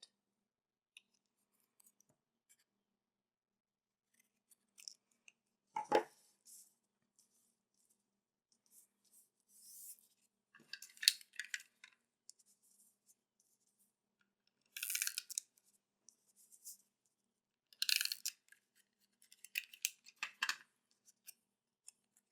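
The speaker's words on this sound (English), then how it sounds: "I'm going to cut these guys off because I want to cut it in half to layer it underneath the sentiment." Scissors snip through paper cardstock while trimming a handmade tea cup greeting card, a few sparse, quiet crisp cuts separated by long silent gaps.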